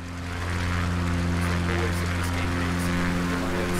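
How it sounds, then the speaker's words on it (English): Aircraft engine in the Microsoft Flight Simulator 2020 video game, a steady droning hum with strong sustained tones that swells in over the first half second and then holds constant. "Oh, the engine sounds are amazing."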